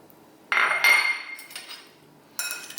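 Chicken wings in chili vinegar hot sauce tossed around a bowl, with a few light clinks and scraping knocks in short bursts and quiet pauses between, close up and with no talking.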